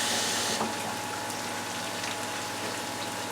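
Water poured into a frying pan with gravy after chicken, peppers and onions were cooked, a steady close hiss and splash of liquid over a sizzling pan, with no talk.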